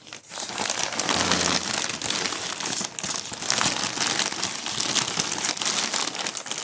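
Tissue paper packaging around an OEM NA Miata gauge hood crinkles and rustles continuously up close during unboxing, a dense, busy crackle with occasional sharper tears.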